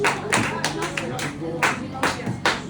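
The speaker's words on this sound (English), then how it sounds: "Give yourself a round of applause." Students clap in a classroom, a small scattered round of separate, distinct claps with uneven spacing, close by and mixed with background voices.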